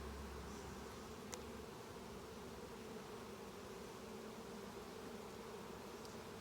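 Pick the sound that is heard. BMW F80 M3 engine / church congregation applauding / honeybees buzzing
honeybees buzzing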